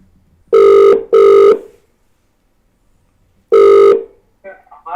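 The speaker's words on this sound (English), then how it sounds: "It's ringing, it's ringing." A telephone rings twice in quick succession, pauses, then rings a third time, loud and clear against near silence, with a faint sound at the end.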